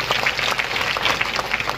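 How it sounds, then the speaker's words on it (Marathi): An audience claps steadily at a Marathi kirtan, a dense crowd applause sustained throughout at fairly close range, with no talk over it. "एकदा तरुणांसाठी प्रेमाने टाळी वाजवा"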